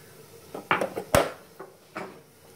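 A spoon stirs soup seasoned with pepper and cumin powder in a metal pot, giving a handful of close, separate clinks and scrapes, one louder knock in the middle, with quiet gaps between.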